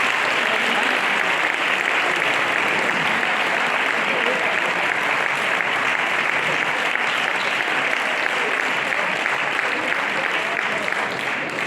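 A congregation at a church sermon applauds loudly and evenly, a dense, sustained wash of many hands clapping that carries on without a break for over eleven seconds.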